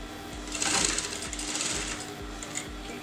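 Sewing machine top stitching a garment neckline, a steady rhythmic thumping hum running close and continuous, with no talk.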